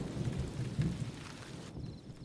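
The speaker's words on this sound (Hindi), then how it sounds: "बारिश बाहर हो रही है" Rain falling outside with rumbling thunder, a low rolling rumble under steady rain hiss that cuts off abruptly near the end.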